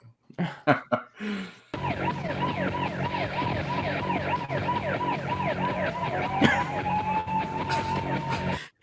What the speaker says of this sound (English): is that siren going to turn off anytime soon?